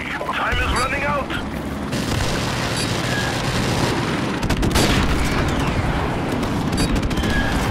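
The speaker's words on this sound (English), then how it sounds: "Friendly airstrike on the way." Heavy booms and rumbling blasts of an airstrike roll through a Call of Duty: Modern Warfare Remastered match, loud dense impacts layered with crackling gunfire and a brief radio-style voice early on.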